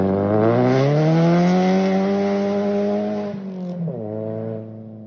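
A state-level rally car on a night stage of the Safari Rally in Western Australia, its engine revving loud and close in a rising, sustained whine that drops off as it shifts and pulls away, with no talk.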